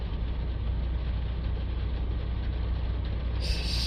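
A Renault Trafic van's diesel engine idles steadily, a dense low rumble holding an even level throughout with no voices.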